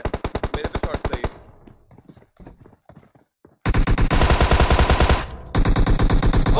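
Automatic gunfire in the mobile battle-royale game PUBG Mobile: loud, rapid bursts of shots open the clip, a quieter lull follows, then a sustained, heavy stream of fire rattles on to the end.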